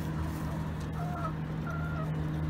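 Chickens cluck softly a few times over a steady low hum, the calls short and close.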